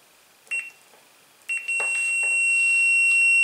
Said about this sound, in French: ça fait bip